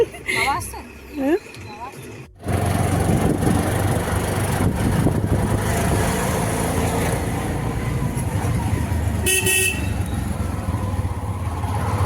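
An auto rickshaw heads to Sonarpur in traffic, its engine giving a steady, close rumble mixed with road noise after a brief louder, clattery stretch at the start.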